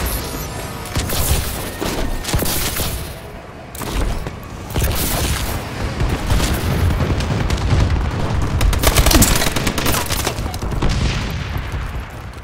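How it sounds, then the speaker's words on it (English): Friendly bombing run airstrike in a multiplayer shooter video game, dense rumbling explosions and crackling gunfire rolling continuously and loudly over a long stretch, with heavy booms layered throughout. "Friendly bombing run clearing the way."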